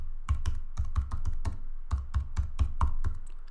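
Rapid, uneven keystrokes on a computer keyboard, close and clear, about a dozen crisp clicks in a steady typing rhythm with no talking.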